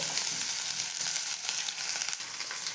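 Half a tablespoon of cumin and eight to ten garlic cloves fry in hot oil, giving a loud, steady, close sizzle that hisses evenly throughout with no voices.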